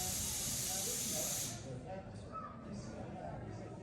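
Loud broadband hiss of air thrust from a hands-on rocket exhibit at a natural history museum, a steady blast for about a second and a half before cutting to quieter room noise with people talking nearby.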